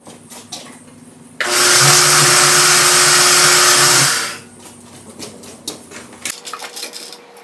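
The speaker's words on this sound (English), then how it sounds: "I'm just gonna cut a slot in it." A power tool cuts a slot into a garden hose reel in one loud, steady whining burst of about three seconds, then falls back to quieter clattering and handling noises close by.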